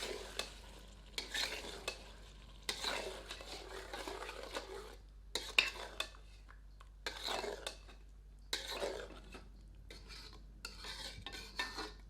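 Ground tomato is stirred into chicken in a pan for Himachali chicken anardana. Intermittent scraping and stirring bursts come up close over a faint background sizzle, with no talking.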